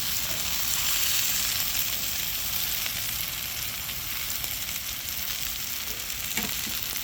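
Steak bites sizzle loudly and continuously in a pan, a dense crackling hiss with occasional sharper pops, heard close and alone without any talking.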